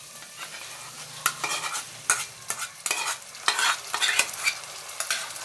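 Yogurt being stirred and fried into a fish korma masala with coriander powder, a steady sizzle broken by repeated scraping strokes of a spoon against the pan, close and alone.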